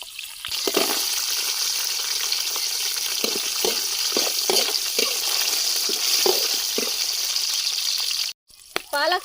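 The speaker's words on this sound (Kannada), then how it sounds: "ಶುಂಠಿ ಬೆಳ್ಳುಳ್ಳಿ ಹಾಕ್ತಾ ಇದ್ದೀನಿ." Ginger and garlic sizzle and fry steadily in a hot pan while palak masala puri is made, with soft stirring scrapes and clinks over the constant hiss; the sizzle briefly cuts out near the end.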